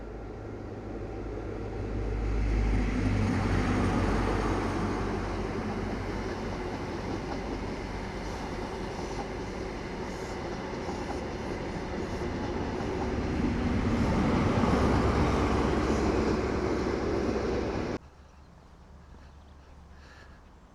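A train rumbles past on the railway near Stirling Castle, a close, loud rolling roar with rattling wagons that builds, holds, swells again and then cuts off abruptly, leaving a quieter outdoor background.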